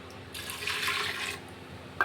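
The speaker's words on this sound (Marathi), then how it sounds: "त्यामध्ये गरम पाणी घालायचं। डाळ लवकर शिजते मग।" Hot water pours onto washed chana dal in a pot, a steady splashing stream lasting about a second, followed by a short clink at the end; no one talks.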